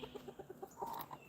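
Quiet, rhythmic clucking from a chicken, a quick series of short notes followed by a slightly longer squawk, heard faintly from a short distance.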